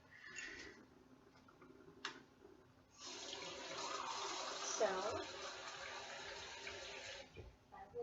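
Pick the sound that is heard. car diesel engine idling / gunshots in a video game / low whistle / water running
water running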